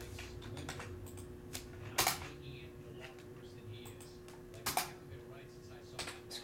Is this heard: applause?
no